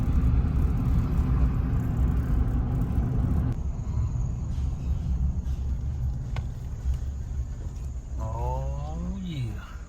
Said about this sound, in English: Got about a 45-minute drive to get where we're going.